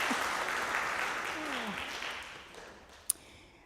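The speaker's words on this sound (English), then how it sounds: "Let's give Heather a big round of applause." A church congregation applauds briefly after a worship service piece, the clapping soft and fading over a few seconds, with a sharp click near the end.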